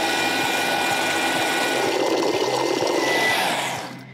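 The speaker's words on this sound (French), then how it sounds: "Maintenant, il ne nous reste plus qu'à mixer." A blender purées cauliflower and romanesco soup with a loud, steady high whirring roar up close, then winds down and stops near the end.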